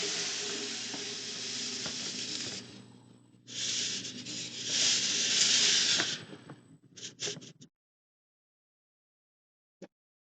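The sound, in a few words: pouring sand into aquarium tank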